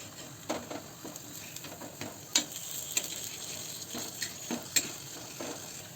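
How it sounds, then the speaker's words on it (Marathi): Sweet potato slices frying on a hot tawa over a high flame hiss with a quiet, steady sizzle, broken by sharp clicks of a spatula turning the pieces. "आता इथं आपल्याला थोडासा फास्ट गॅस करायचा आहे आणि दोन्ही साईडनं चांगली परतून घ्यायच्यात"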